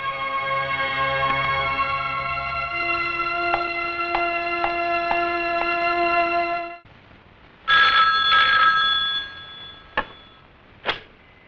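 An old-style telephone rings insistently in a police station in a Hindi action film, a steady electronic trill with sharp rhythmic pulses, then stops and gives way to a few clicks as the receiver is picked up.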